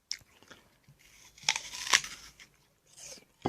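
Crisp crunching bites into a fresh, crunchy Discovery apple, two sharp bites standing out near the middle with softer chewing crunches around them, close and fairly loud.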